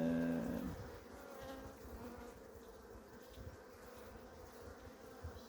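A steady insect buzz hums throughout, like a mass of honey bees around a weak hive with a poor-quality queen and low honey stores, with a brief louder tonal burst at the very start.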